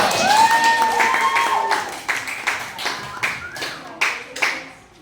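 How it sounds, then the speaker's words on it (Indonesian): A classroom of pupils claps for a classmate named Desvira, with a handful of sharp, uneven claps close by that thin into separate taps alongside brief chatter and faint voices. "Tepuk tangan untuk Desvira"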